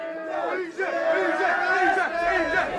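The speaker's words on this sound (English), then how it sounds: "The crowd here are having a lovely time." A noisy carnival crowd of British revellers shouts and cheers together close by, a dense sustained roar of overlapping voices with rising whoops and calls.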